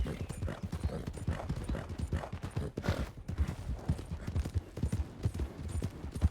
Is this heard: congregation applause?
no